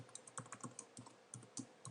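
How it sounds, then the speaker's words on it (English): A password being typed on a computer keyboard: a quick run of light, irregular key clicks and taps, faint and close, with no talking. "let me just put my password in there"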